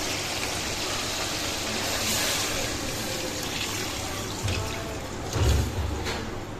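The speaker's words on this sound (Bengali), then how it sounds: "এখন পরিমাণ মতো পানি দিয়ে দেব" Water is poured into a pot of spiced meat on the stove, a steady low splashing and gushing that swells briefly near the end, with no voices.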